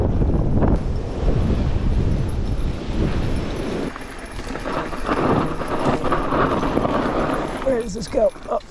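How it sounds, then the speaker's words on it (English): Steady, loud wind buffeting the microphone, a continuous rushing roar with a brief lull, while a person speaks briefly near the end. "It's quite windy."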